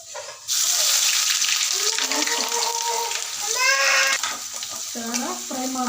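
Onion, green chili, curry leaves and tomato sizzle loudly in hot oil in a pan for liver fry, with a steady close crackle and occasional stirring scrapes.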